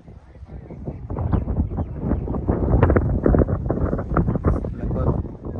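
Wind gusting outdoors during a kite-flying match in Howrah, a loud buffeting rumble on the microphone that swells and churns throughout without letting up.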